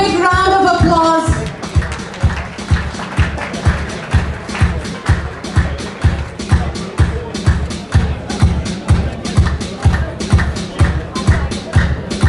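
An audience at a launch ceremony in New York City claps in steady, rhythmic applause that carries on for several seconds, a broad crowd sound with no voices over it.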